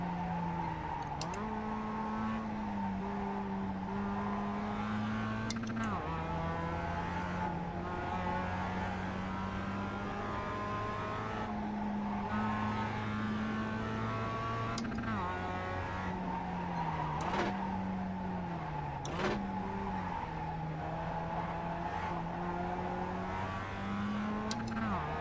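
Race car engine in the iRacing sim racing game blipping its throttle through a corner, steady droning revs with sharp pitch drops and quick surges as the car is pushed into oversteer, loud and continuous throughout.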